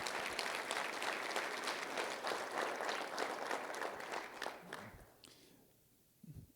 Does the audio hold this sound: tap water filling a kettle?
no